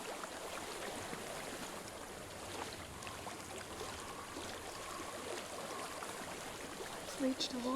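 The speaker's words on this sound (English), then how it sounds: "I hear water. Go to it." A stream flows in the game Hellblade: Senua's Sacrifice, giving a constant soft rushing wash of water throughout, with faint whispered voices drifting over it.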